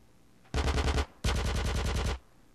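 Two bursts of rapid automatic gunfire from GTA San Andreas ring out, each about half a second to a second long with evenly spaced shots. The rounds sound loud and close, with quiet between the bursts.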